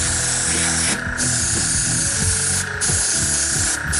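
Airbrush spraying black paint onto a model, a continuous hissing spray with brief breaks as the trigger is released, while a voice talks over it.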